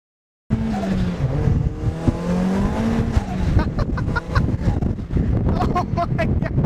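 A 1989-1997 Mazda Miata driving, with engine pitch rising and falling through gear changes and revs, close and fairly loud, with rough tire and road noise building toward the end.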